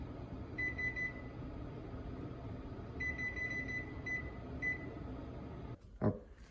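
A kitchen timer gives short, high electronic beeps in several clusters as it is set for a pot roast, over a low room hum, with a brief clunk near the end.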